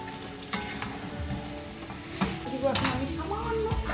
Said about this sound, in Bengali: বাকি ঝোলটা দিয়ে আমি আর যে পেঁয়াজ এটা দিয়ে দিচ্ছি ভাজা পেঁয়াজটা আমি এখন দিয়ে দেবো